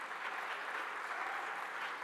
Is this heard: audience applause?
yes